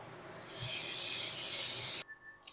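Water poured into a hot pan of ridge gourd, potato and poppy seeds hisses loudly as steam bursts up, a sustained sizzling rush of about a second and a half that cuts off sharply into near quiet.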